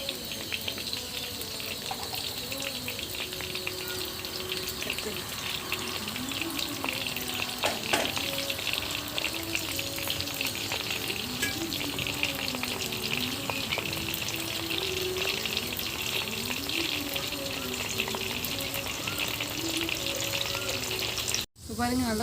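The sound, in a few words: frying in a pan for chilli egg pasta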